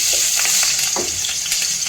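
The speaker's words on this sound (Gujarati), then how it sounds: "મરચાંને આપણે થોડું સાળવી લઈશું" Loud, close sizzling of a green chili frying in hot oil, with a dense crackling hiss and a few brief spatters.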